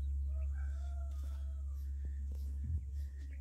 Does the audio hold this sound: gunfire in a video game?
no